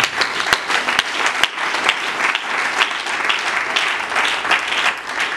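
A congregation at a funeral vigil for an apostle bursts into sustained applause, dense and loud from start to finish, with a few sharper individual claps standing out near the beginning.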